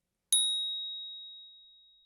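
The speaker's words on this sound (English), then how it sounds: "this bell signals the start of a Sanzen period" A single bell struck once for the start of a Zen Sanzen period, a bright clear ding that rings on in a long, steadily fading tone for nearly two seconds in otherwise silent surroundings.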